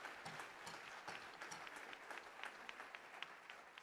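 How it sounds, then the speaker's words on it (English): A theater audience at the Lincoln Theater claps during a jazz orchestra birthday concert, a steady patter of many hands sounding faint and distant throughout. "So how about a round of applause for Miss Susan and the Lincoln Theater."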